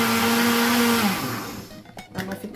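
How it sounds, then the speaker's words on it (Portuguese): A blender runs loudly for about a second on pulse with cornmeal cake batter, then winds down, followed by quieter clattering and mixing sounds. "dar uma batidinha no modo pulsar"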